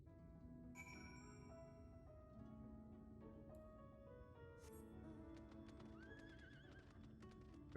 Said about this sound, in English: Purple horse.